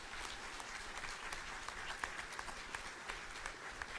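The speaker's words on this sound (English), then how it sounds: "I'd like to invite you all to give our students a resounding round of applause for all their efforts this year." A large audience gives sustained applause at a primary school speech day ceremony, honouring the students with a steady, even patter of many hands, somewhat distant and soft.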